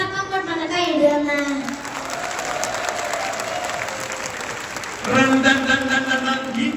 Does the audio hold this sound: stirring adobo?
no